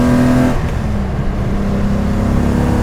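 A modified Datsun 240Z's engine revs high and loud from close by, a steady sustained drone with a brief pitch shift early on and no voices.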